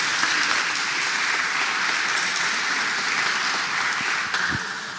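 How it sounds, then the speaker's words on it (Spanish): Audience applause welcoming a speaker to a security talk on information disclosure, a full, steady wash of clapping that holds for several seconds before tapering off at the end. "aplausos y bienvenido"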